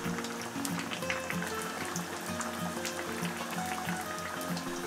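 Banana, sweet potato and taro pieces deep frying in hot oil, a steady close bubbling sizzle that holds evenly throughout with no voices.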